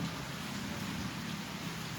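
Steady rain pours down on a stormy night in Kolkata, an even, unbroken hiss of falling water at low level with no voices.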